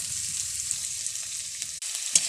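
Onion, ginger paste and garlic paste fry in hot oil with a steady, close sizzle, while a spoon scrapes and stirs through the mixture in soft irregular strokes. A louder clatter comes near the end.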